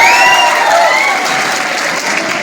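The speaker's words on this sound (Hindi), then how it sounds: "351 रंजीत कुमार के लिए एक बार जोरदार ताली बजाएंगे आप लोग।" A crowd at a bike mechanic training event in Kanpur bursts into loud applause for a contestant, a close, dense wash of clapping with a few whistles at the start that eases off gradually.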